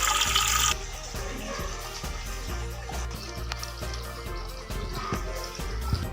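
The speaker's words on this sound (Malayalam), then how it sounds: "ഓക്കെ, നമ്മൾ വെള്ളം നിറച്ച് തുടങ്ങിയിട്ടുണ്ട് കേട്ടോ" Water rushes steadily into a new aquarium tank, a continuous gushing and splashing fill that stays fairly loud and even throughout.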